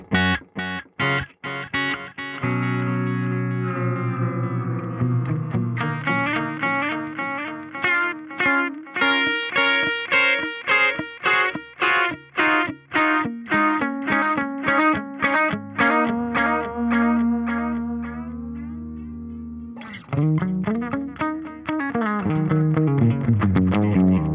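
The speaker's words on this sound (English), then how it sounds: "it sounds like it's tape being sped up or slowed down" Instrument sent through a BOSS RE-202 Space Echo pedal gives loud, dense repeating echoes whose pitch bends up and down as the tape speed shifts, with no voices.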